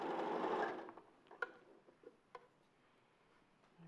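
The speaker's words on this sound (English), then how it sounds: "I'm just going to sew along the front of the lower leg." A sewing machine stitches along the front of a stuffed toy's lower leg, a dense quick whirr for under a second before stopping, then a few faint clicks and small handling taps.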